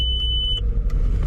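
A car engine abused with eggnog runs rough, giving a continuous low, uneven rumble, with a brief electronic beep at the start.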